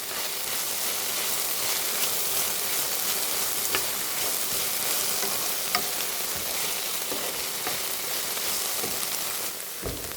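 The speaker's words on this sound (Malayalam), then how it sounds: "നമ്മുടെ വെണ്ടയ്ക്കായും സവാള ഉള്ളി, പച്ചമുളക്, വെളുത്തുള്ളി എല്ലാം ഒന്ന് നല്ലതായിട്ട് വഴണ്ടിട്ടുണ്ട്" Okra, onion, green chili and garlic sauté in a pan, a dense, continuous close sizzle of frying with occasional faint stir clicks, steady throughout and no voices.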